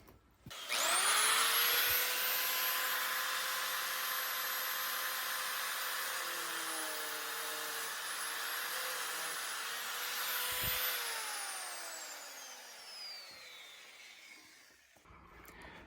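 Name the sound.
cutting with a cut-off wheel (death wheel)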